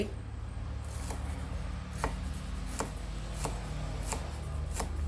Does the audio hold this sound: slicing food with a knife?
yes